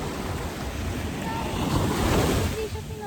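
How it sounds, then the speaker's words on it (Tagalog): Strong ocean surf crashes and washes onto a beach in Bicol, a continuous loud roar with wind buffeting the microphone, swelling slightly toward the middle. "yung alon medyo malakas"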